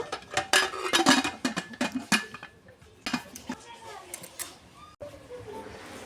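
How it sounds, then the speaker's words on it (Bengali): Metal clanks and clinks of a pressure cooker lid being fitted and set in place in a home kitchen, a run of sharp knocks and scrapes, then sparser taps, with someone speaking Bengali over it. "এবার প্রেসার কুকারে ঢাকনা দিয়ে দেব।"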